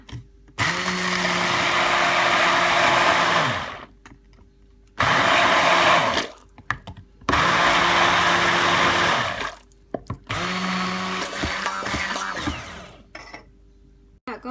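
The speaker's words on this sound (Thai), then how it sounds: "แล้วเราก็จะเอาไปปั่นนะคะ เราก็จะปั่นกันนะคะ" An electric blender whirring through an Italian-style salad dressing in three loud bursts of a few seconds each, separated by short pauses and a clatter as the jar settles, with no voices.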